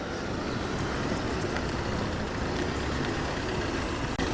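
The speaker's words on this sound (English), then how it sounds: "Look at that tractor," MAN tractor unit truck passing at a classic car gathering outside a pub, a continuous loud rumble of engine and road noise that stays steady throughout, with no talking.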